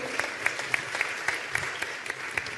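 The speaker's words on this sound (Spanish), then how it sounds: "Un gran aplauso a las 4." Audience applause at a women's event, a steady dense clapping wash with a few sharper rhythmic claps standing out, fairly close and continuous throughout.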